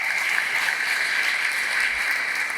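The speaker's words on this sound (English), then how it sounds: "Another round of applause for Mike." Conference audience breaking into a round of applause, a continuous even patter of many hands at moderate level, heard alone without speech.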